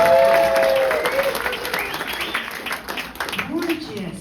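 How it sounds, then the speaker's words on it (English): An audience at a live comedy or stage event claps and cheers for the women in the crowd, loud applause that fades gradually, with voices of the crowd mixed in. "clap it up for all the beautiful ladies"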